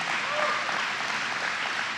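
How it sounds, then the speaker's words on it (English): Audience applause at an outdoor press event announcing an airport terminal overhaul in Rochester: a dense, steady wash of clapping that holds at even loudness for the whole two seconds, with no speech over it. "Give it a big round of applause."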